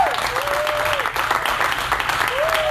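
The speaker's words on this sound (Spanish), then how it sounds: "Vamos a dar un aplauso a ellos." A congregation applauds baptism candidates at a church service, with steady clapping throughout and a voice rising and falling over it.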